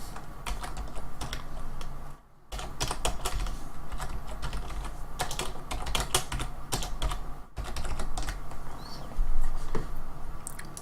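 Computer keyboard typing notes, a brisk, irregular clatter of close key presses with two short pauses and occasional mouse clicks, continuing steadily without any speech.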